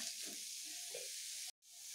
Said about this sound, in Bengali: নুন হলুদ গুঁড়োগুলো মিশিয়ে এগুলোকেও আমি একটু ভালোভাবে ভেজে